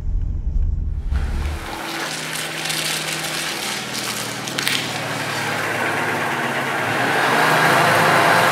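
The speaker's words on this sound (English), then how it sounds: "We are driving our NSU." An NSU car with a Wankel rotary engine drives along, its steady mid-pitched engine hum and broad road rumble rising slightly toward the end after a brief low idle at the start.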